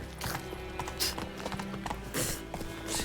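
A horse gallops in the video game The Witcher 3, its hooves clip-clopping in a quick, uneven rhythm with bursts of louder footfalls.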